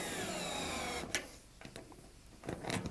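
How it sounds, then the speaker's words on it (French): A cordless electric screwdriver tightens bolts on a self-supporting Waterair pool wall, giving a steady whirring drive for about a second, then short bursts of fastening with clicks and pauses. "Et maintenant on va bloquer tous les boulons."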